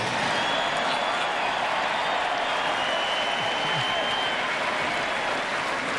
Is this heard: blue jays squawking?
no